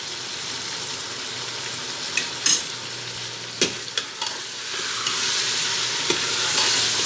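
Chicken with ginger-garlic paste sizzling in a pan with a steady frying hiss, punctuated by a few scraping clinks of stirring; the sizzle swells louder toward the end.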